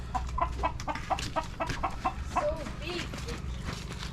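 A chicken clucks in a quick, regular series of sharp calls near the microphone, over a low rumble, with voices talking in the background.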